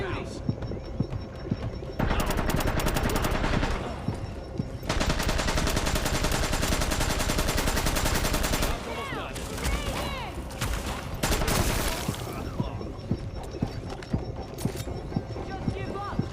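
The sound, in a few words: gunfire in video game The Division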